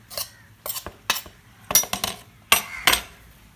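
Plum cake batter with flour (maida) is stirred in a bowl, giving a series of close, fairly loud scraping clinks of a utensil against the bowl in irregular bursts, with no talking.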